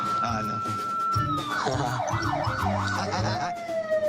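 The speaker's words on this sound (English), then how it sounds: "Can I go do the sirens?" A police car siren winds up, then wails up and down in a rapid rising-falling pattern over engine rumble, close by and loud.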